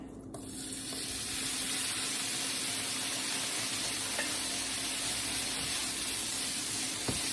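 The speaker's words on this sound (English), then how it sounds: "I have my pan here with a little olive oil in it, and we're gonna start with the smoked sausage" Smoked sausage sizzles steadily in olive oil in a pan, a loud, even frying hiss holding close for the whole stretch, with a few faint clicks and stirs and no talking.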